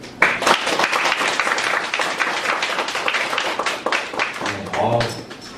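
An indoor audience at a book forum breaks into dense, sustained applause after a presentation, close and steady, with a voice speaking over the clapping near the end.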